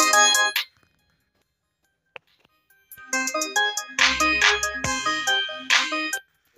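Music plays tinnily from the repaired side of a OnePlus Wireless Z Bluetooth neckband earphone whose one earbud had gone silent. A bright melodic phrase cuts off into a near-silent gap, then resumes with denser, louder notes heard at close range.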